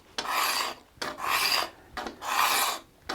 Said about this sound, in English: I'm going to first use a scraper and remove all the edges I can feel left by faceting the